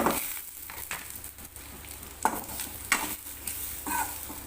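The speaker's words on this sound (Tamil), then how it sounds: "நெய் கொஞ்சம் போட்டுக்கலாம் தேங்காயை அதில் போட்டு வறுத்து எடுத்துக்கலாம்" Grated coconut frying in ghee in a pan for a sweet potato snack, with a soft steady sizzle broken by several scraping stirs of a spoon against the pan, close and moderately loud.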